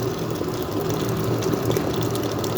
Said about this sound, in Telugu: గిన్నెడు నీళ్ళు వేస్తున్నాను